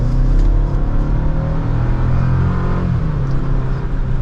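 2023 Chevrolet Colorado Z71 pickup with a turbo four-cylinder pulling from second gear, a loud steady engine drone inside the cab that rises slowly in pitch as it accelerates, with no voices.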